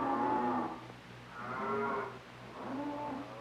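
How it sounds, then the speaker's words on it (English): Dairy cattle on a farm give three long, drawn-out moos in succession, moderately close with quiet pauses between and no talking. "proud of this herd of dairy cattle"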